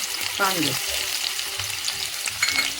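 Sliced onion frying in hot oil in a kadai, a continuous bright sizzle with a few stirring scrapes, close and loud, with no talking.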